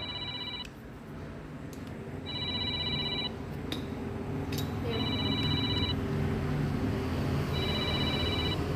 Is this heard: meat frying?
no